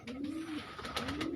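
A prized pet pigeon kept by a breeder gives a short, low cooing call, close and clear, with a brief pause between two rolling phrases.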